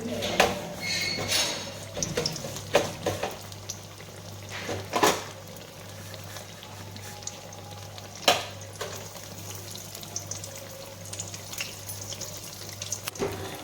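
Soft continuous sizzle of eggplant slices coated in rice flour frying in oil in a pan, punctuated by occasional clinks and scraping of utensils.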